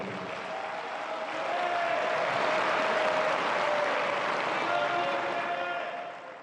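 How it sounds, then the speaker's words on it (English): Steady crowd applause at the Tie Break Tens tennis event in Dubai in 2021, honouring founding partners, swelling in the middle and easing off at the end, with faint voices mixed in. "please give them a round of applause for all the support that they've given"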